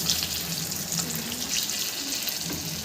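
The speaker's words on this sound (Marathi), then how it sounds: "मी वड्या तेलात टाकून घेतल्या आहेत. आपण अशा मस्तपैकी फ्राय करून घेऊ" Alu vadi, colocasia rolls, frying in hot oil, giving a continuous close bubbling sizzle with small crackling bursts that rise and fall without a break; no one speaks.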